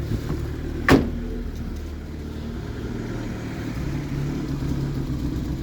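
A 1989 Opel Corsa sedan engine with a leaking exhaust idles with a rough, rumbly drone close by, with a brief sharp knock early on.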